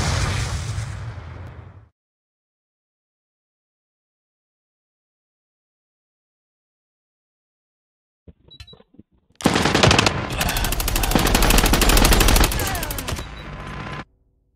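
A Mythic MG42 machine gun in Call of Duty Mobile fires in loud, dense bursts, one short burst at the start, then a long sustained stream of rapid shots after a stretch of silence, with a few scattered pops.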